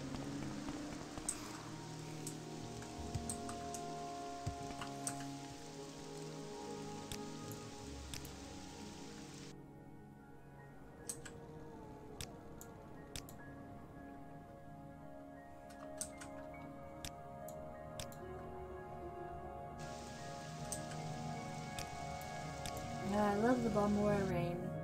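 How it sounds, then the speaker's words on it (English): Rain falls in the video game Morrowind as a steady patter of drops with scattered ticks, continuous under a soft musical background. "More rain."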